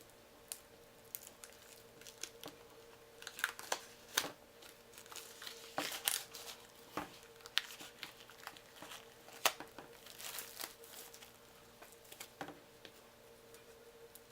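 Cellophane plastic wrap is peeled from board game tile cards, giving faint, close, irregular crinkles and crackles with scattered sharp ticks and small rustling bursts against quiet, with no talking.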